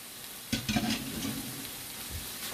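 Ground beef dropped into an enameled cast iron pan for sloppy joes, a short thump of impact followed by soft, close sizzling and a few light scrapes, fairly quiet overall.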